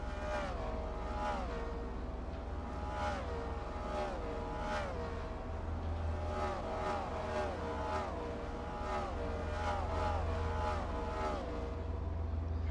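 Race cars in a racing video game round the Chicago Street Course, engines whining past in a steady run of flybys, each pitch rising and dropping as a car sweeps by over a constant engine drone, with no talking.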